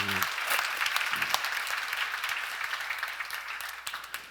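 A church congregation applauds together through a sermon, a dense, steady clapping that fills the room and fades slightly toward the end, with a brief voice at the very start.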